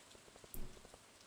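Soft, faint rain patter in the video game Stardew Valley, a brief light wash with a single louder splash in the middle.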